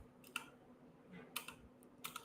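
A handful of computer keystrokes clatter in a few separate quick bursts, fairly quiet and close against faint room hum, with no voices.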